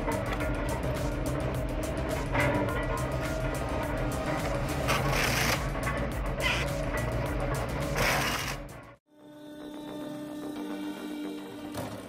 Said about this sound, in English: Large or small logs are all cut into pieces in seconds.